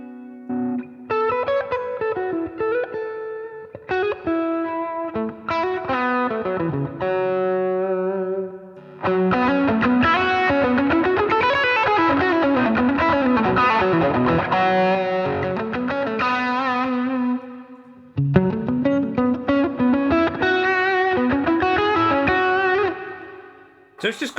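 Electric guitar played through an effects unit set for overdrive and reverb, with sustained distorted chords and single-note lines ringing out loud and continuous, alone with no talking.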